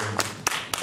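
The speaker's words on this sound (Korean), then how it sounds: "진짜 박수 한번 쳐줘야 돼요" A church congregation gives a few scattered claps in a short burst, three distinct sharp hits spaced apart rather than full sustained applause, near and moderately loud.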